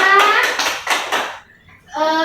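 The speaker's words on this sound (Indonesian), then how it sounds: "Baik, tepuk tangan untuk Regina." Brief rhythmic clapping from a third-grade class in an Indonesian school lesson, several quick bursts of hands close together, then a short pause before a voice begins.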